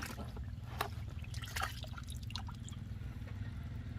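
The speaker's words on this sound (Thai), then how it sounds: "แล้วก็เท กากน้ำหมักลงไปนะครับ" Fermented compost residue poured into a small hole at the base of a durian tree, soft dribbling and dripping liquid with a few brighter splashes over a low background hum.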